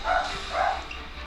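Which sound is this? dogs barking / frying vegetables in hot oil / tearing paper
dogs barking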